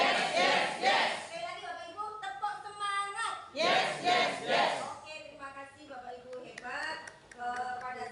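A crowd of teachers at a teacher-education program event in Pekalongan shouts a rhythmic spirit-clap chant of 'yes yes yes' in loud voiced bursts, with pauses between rounds and a single voice leading in between.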